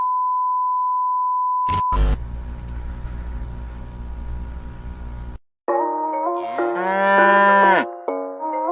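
Cows moo loudly and close after a steady beep tone and a burst of noisy rumble, with several long drawn-out lowing calls overlapping near the end.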